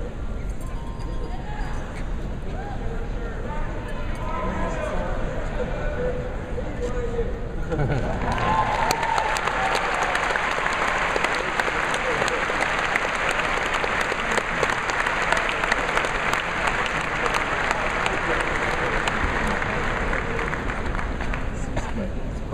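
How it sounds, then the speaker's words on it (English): Audience clapping at a university event, a voice talking at first before a broad, sustained round of applause swells and carries on loudly to the end, with occasional clinks mixed in. "Let's give him a round of applause."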